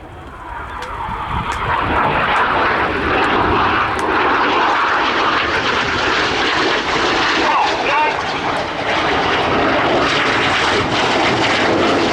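RAF Red Arrows jets fly synchro double rolls at an air display, a loud, sustained jet roar that sweeps past overhead, with a commentator's voice running over it.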